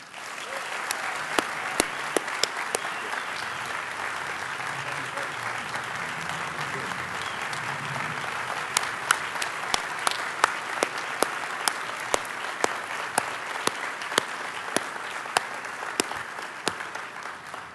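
A crowd at a Cardinal 'M' Club athletics weekend gives a coach a long, sustained round of applause, many hands blending into an even roar with sharp individual claps popping out near the microphone.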